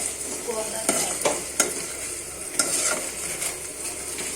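Okra frying in a pan sizzles steadily up close, while a spatula scrapes and taps against the pan at irregular intervals.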